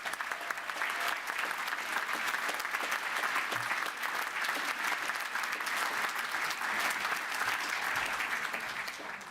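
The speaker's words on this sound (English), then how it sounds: "Let's give those guys another round of applause." An audience at a university graduation ceremony claps steadily and continuously, a dense, even round of applause heard from a distance at moderate volume with no voices on top.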